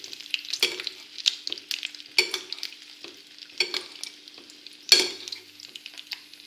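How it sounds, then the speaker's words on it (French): Butter sizzling in a pan as it is spooned over a browning poussin, a crackling fry broken by repeated sharp spoon taps and splashes at a steady pace, close and without talk. "je prends mon beurre et je viens l'arroser"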